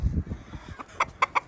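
Second-generation olive egger rooster on a homestead gives a few short, sharp clucks close by, spaced in a quick uneven rhythm after some low rustling.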